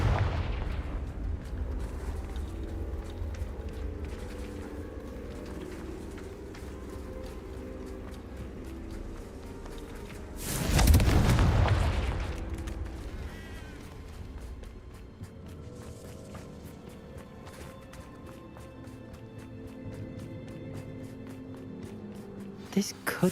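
A single Confringo fire spell explosion in Hogwarts Legacy, one deep booming blast midway that rolls off over several seconds above a low game background ambience.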